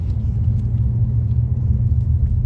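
A car climbs a narrow mountain road toward Doi Suthep, heard from inside as a steady, heavy low engine rumble with little variation and no voices.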